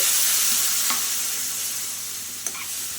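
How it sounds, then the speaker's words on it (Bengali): A vegetable curry fries in a pan with a dense, loud hiss that settles slightly over a few seconds after water goes in, with one brief knock of a utensil near the end. "এবার একটু জল দিয়ে দিচ্ছি"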